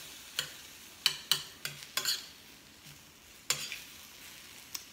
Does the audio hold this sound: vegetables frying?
yes